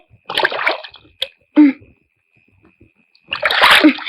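Water splashing as someone's feet are washed in a film scene: two longer sloshing bursts at the start and end, with a few short splashes between and quiet gaps.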